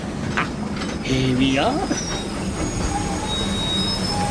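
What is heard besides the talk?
train arriving at station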